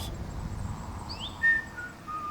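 A thin, wavering whistle drifts high above a low rumbling background, rising and sliding in pitch, with a brighter tone swelling briefly near the middle.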